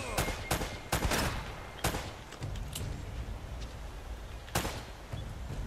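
Gunfire in Uncharted: Drake's Fortune: a rapid cluster of sharp shots in the first two seconds, a few scattered shots after, then another burst near the end, over a low game-ambience rumble.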